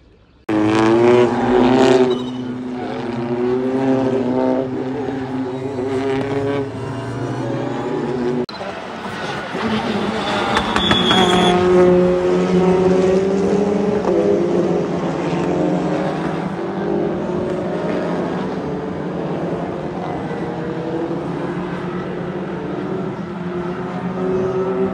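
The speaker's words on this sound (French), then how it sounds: "Corvette C7 Z06 rouge avec toutes les parties en carbone" A red carbon-bodied Corvette C7 Z06 race car drives at the Dijon-Prenois circuit during a French circuit championship, its loud engine note rising and shifting pitch as it passes, with talk over the top.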